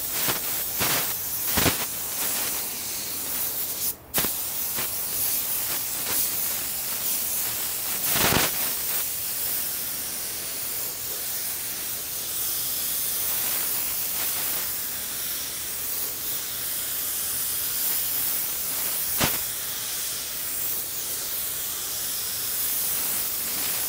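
A clear-coat varnish spray on wooden boiserie gives a long, steady hiss lasting over twenty seconds, broken by a few sharp clicks and knocks, with no talk.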